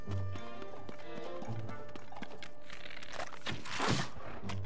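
Horse galloping in the video game Zelda: Tears of the Kingdom, rhythmic hoof clip-clops in repeating beats, moderately loud, mixed with game sounds and faint background activity.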